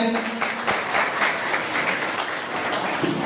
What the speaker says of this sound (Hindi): आप सब पुनः ताली की करता ध्वनि से स्वागत का अभिवादन करें।